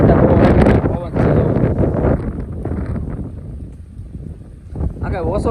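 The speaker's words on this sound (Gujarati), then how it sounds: "ડાળિયું ભાંગી નાખીએ એવો પવન છે અત્યારે" Strong wind sweeps across an open farm field and buffets the microphone in a loud, gusty roar that rises and falls, with a voice briefly heard near the end.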